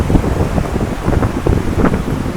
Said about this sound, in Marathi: हवा बघितली सुटला समुद्र एकदम खवखळला आहे